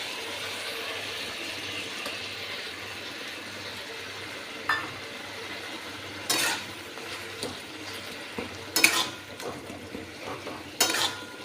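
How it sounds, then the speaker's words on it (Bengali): Poppy seeds tipped into a frying pan and stirred, a soft steady sizzle under scattered scrapes and sharp metallic clinks of a spoon against the pan, growing more frequent toward the end. "এরপরে আমি পোস্তটা দিয়ে দিচ্ছি।"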